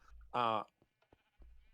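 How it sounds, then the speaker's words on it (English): A single short sheep bleat from a video game sheep-shearing farm, clear and close, with faint game sounds before and after. "Here's my automatic sheep shear farm."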